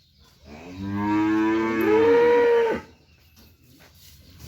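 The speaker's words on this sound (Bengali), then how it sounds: "এগুলো কিন্তু মাহারিনের গরু এটাও তো ঠিক" A single long, loud cow moo, close by, rising in pitch and then holding steady for about two seconds before stopping, with no voices.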